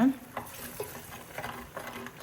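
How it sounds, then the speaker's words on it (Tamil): Curry of boiled chickpeas and plantain simmering in a pot, a soft sizzling bubble with occasional stirring clinks, heard close and steady without talk. "குழம்பு பாருங்களேன், சூப்பராக கொதிச்சுட்டு இருக்குது."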